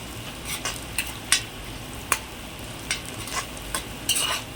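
Onions frying in a pan for chicken chukka, stirred now and then: a low, steady sizzle broken by sharp spoon scrapes and taps against the pan, close up and without speech.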